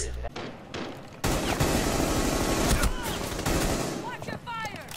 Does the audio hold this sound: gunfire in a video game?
yes